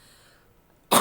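A single sharp cough bursts out near the end, close and loud, after a moment of near silence.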